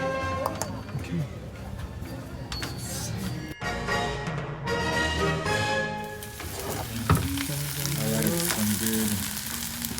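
Bibimbap sizzles loudly in a hot stone bowl while being stirred and scraped, with a voice talking over the crackling.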